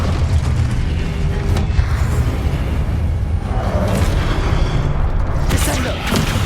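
Repeated fiery blasts of the Confringo spell in Hogwarts Legacy rumble through a dense, constant game soundscape, with a few sharper bursts standing out near the end.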